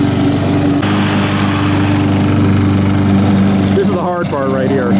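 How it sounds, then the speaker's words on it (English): A lawnmower engine runs loudly and steadily up close as it is pulled up a hill, a constant buzzing drone, and a voice speaks briefly over it near the end. "he's pulling against the lawnmower there"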